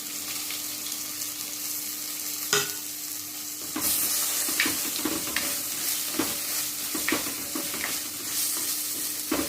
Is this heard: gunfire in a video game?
no